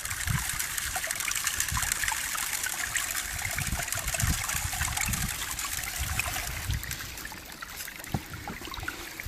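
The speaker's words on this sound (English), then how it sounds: "The flow of water is just perfect." Water trickles and burbles steadily through a river sluice used for gold prospecting, a gentle close continuous flow with small splashes and no speech.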